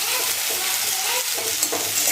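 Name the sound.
onions frying and being stirred in a pan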